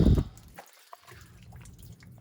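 Water splashes briefly at the start, then drips and trickles steadily at a low level from a Chevy sunroof drain, close by and without any talking.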